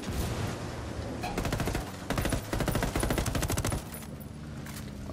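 Enemy automatic gunfire in Ghost Recon Wildlands, sustained rattling bursts of rapid shots in several clusters, loud and fairly close, continuing almost the whole time.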